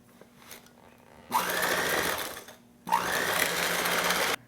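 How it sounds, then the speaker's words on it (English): An electric mixer creams butter and sugar for a white chocolate cranberry pound cake, two steady whirring runs of about a second and a half each, separated by a short pause, fairly close and with no talk. "you're going to mix these two, the butter and the sugar,"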